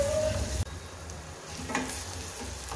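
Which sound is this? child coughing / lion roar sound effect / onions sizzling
onions sizzling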